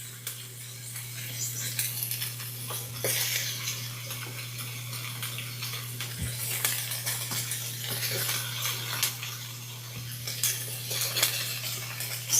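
Beef strips for Disney World Bridgetown fajitas sautéing quickly in a pan, a low sizzle beneath clinks and scrapes of a utensil over a steady hum, with no voices.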